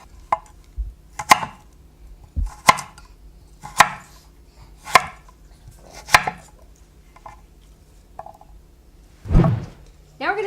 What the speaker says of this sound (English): you're going to finish it off by cutting them into cubes